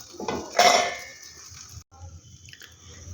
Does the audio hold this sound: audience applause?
no